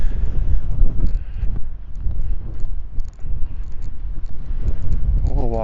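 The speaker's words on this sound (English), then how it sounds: "the wind is cranking right now, so hopefully you can still hear me" Strong wind buffets the microphone outdoors beside a parked camper under cloudy skies, a loud continuous low roar with gusty swells, while someone talks throughout.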